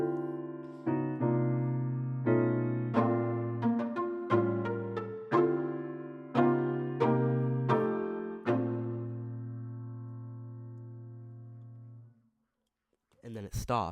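A slowed-down beat intro plays back as a series of mellow keyboard chords and single notes that ring and fade. A long held chord dies away, then a brief burst of voice or noise comes at the end.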